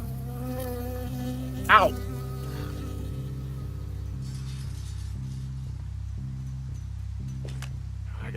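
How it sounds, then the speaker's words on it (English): A bee buzzing in the video game Firewatch, a steady pulsing insect drone heard close throughout, with a sharp yelp of pain near the start. "I got stung by a bee."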